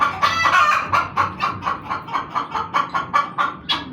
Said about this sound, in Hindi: अंडा देने वाली मुर्गी की आवाज़।